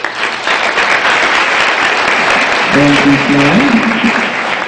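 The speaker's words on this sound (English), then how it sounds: "And a round of applause for all of our candidates." A county fair pageant audience applauds, a loud, dense wash of clapping from a large crowd that carries on steadily, while a speaker's voice briefly sounds over it midway.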